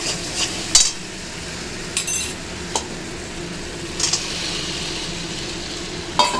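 Potatoes dropped into hot spiced oil in a pan give a steady sizzle, with a few sharp clinks of a utensil against the pan standing out above the frying hiss.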